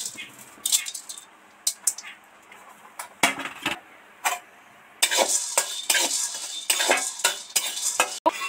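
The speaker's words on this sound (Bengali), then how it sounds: "এবার লবঙ্গ কটা দিয়ে দিচ্ছি।" Cloves fry in a pan with ginger and black pepper, giving a soft sizzle under repeated metallic stirring clinks and scrapes from a spoon, which grow busier and louder toward the end.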